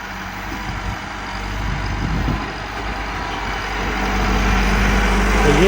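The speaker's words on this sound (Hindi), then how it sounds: "लगता है दूसरा ट्रैक्टर लेने जा रहा है इस टाइम" A tractor engine runs steadily on a farm field while dragging soil to level the ground, a continuous loud low rumble that builds slightly toward the end, with no speech.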